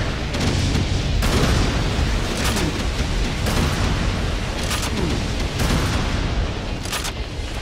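Heavy explosions boom repeatedly in Doom 2, loud, dense blasts arriving in irregular bursts over a constant roar of gunfire and game noise.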